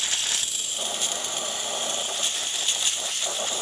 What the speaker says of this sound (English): Nice steam coming out of the machine. Good pressure.